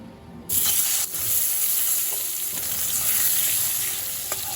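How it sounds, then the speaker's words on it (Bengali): Eggplant pieces coated in turmeric and salt drop into hot mustard oil and sizzle loudly and steadily, a continuous close frying hiss with a few small pops. "এই তেলে আমি হলুদ লবণ মাখানো বেগুনগুলো ভেজে নেব।"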